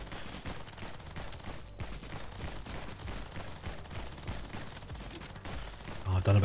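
Video game gunfire in Nimrod's Guncraft Survivor, a custom-built gun firing at a boss totem: continuous dense rapid shots forming a steady barrage, with heavier low thumps near the end.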